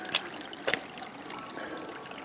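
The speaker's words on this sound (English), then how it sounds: "you see how much water's flowing through this already" Water flows through a roadside channel that is prone to flooding the road, giving a steady, faint trickling wash with a couple of brief splashy bursts near the start.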